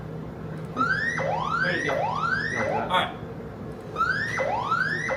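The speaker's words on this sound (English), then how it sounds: "Now you got alarms on." Control-room alarm horns go off after a pump trip at a Tesla community event, sending repeated rising electronic sweeps in a steady cycle. A person speaks briefly over the alarm.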